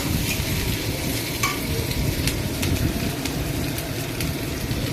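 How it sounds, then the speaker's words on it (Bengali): Onions frying in a pan for a Bengali prawn dish, stirred steadily so the close, continuous sizzle comes with scraping and clinking from the spoon, with no talking. "এবার আমি এইটাকে ভালো করে নেড়ে চেড়ে ভেজে নেব। লাল লাল হওয়া অবধি পেঁয়াজগুলোকে ভালো করে আমি এটাকে ভাজবো।"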